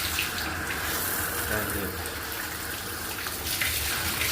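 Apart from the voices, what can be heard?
water flowing from a telephone shower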